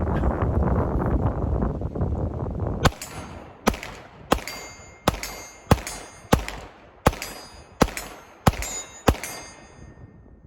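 A Smith & Wesson M&P Performance Center pistol fires about ten evenly paced shots, each crack followed by a ringing clang from a steel target 40 yards out, with wind rumbling at the start.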